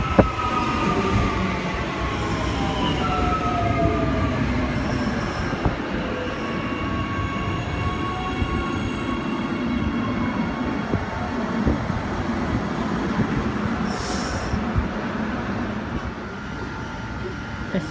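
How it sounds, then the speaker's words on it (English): A three-car SMU 238 commuter train pulls out of Morningside Station, with a loud, continuous rumble of rolling wheels and drawn-out metallic wheel squeals sliding in pitch as it departs. "SMU 238 now departing Morningside."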